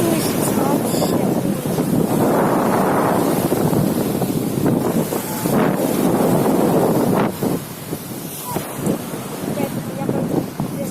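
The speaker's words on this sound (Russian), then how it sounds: "Очень сильные волны, вообще сильный ветер, наверное, это не слышится вообще." Strong wind buffets the microphone at a Greek beach while heavy waves surge and crash nearby, a loud continuous roar with swelling rushes of surf and occasional voices beneath.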